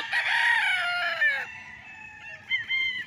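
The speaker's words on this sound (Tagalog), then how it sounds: "At ang daming alagang manok." Chickens cluck and a rooster crows on a fenced farm lot in Liliw, Laguna. A loud, close crow opens the sound and then fades, and short clucks and calls follow near the end.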